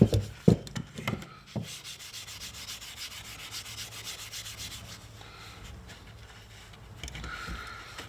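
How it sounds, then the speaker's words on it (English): Close, steady rubbing on the pitted metal of a BSA Cadet Major air rifle during a cosmetic refurbishment, a continuous abrasive scrubbing after a few knocks and handling bumps at the start. "And then just keep rubbing."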